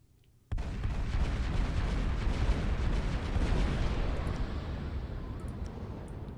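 The player's guns in the game Final Theory open up after a short quiet moment, becoming a loud, continuous roaring barrage of dense rumbling fire that holds steady and then eases slightly.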